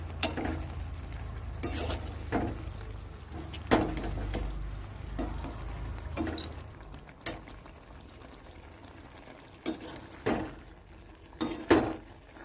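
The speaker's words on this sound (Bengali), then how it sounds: "কড়াইটা ছোট তো, গ্যাসে ঠিক মাপে মাপ বসেনি, সেই জন্য আওয়াজ হচ্ছে এরকমভাবে।" A small wok sits unevenly on a gas stove and rattles and clanks in irregular metallic knocks while mustard paste, salt and turmeric are stirred in, with a faint sizzle underneath and no talking.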